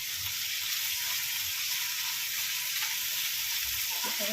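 Dried Bombay duck masala sizzles steadily in a pan while being sautéed, a dense, even frying hiss with faint stirring scrapes and no talking.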